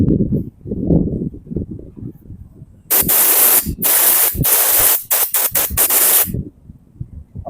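Carburetor cleaner sprays in several loud hissing bursts onto a Honda Blade motorcycle carburetor, close to the mic, with talk and handling noises before and after the bursts.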